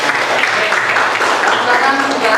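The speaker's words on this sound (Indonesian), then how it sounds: "Tepuk tangan untuk" A class of students applauds loudly, with continuous dense clapping and voices mixed in throughout.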